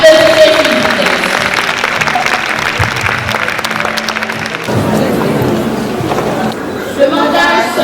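An audience claps at a graduation ceremony, loud continuous clapping mixed with crowd chatter and a brief tonal sound early on, the applause swelling again toward the end.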